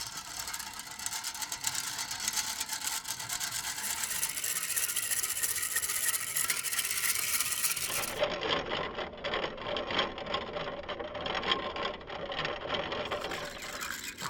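An electric beater whirs steadily close by beating eggs, a continuous motor buzz whose tone shifts partway through, with no talking.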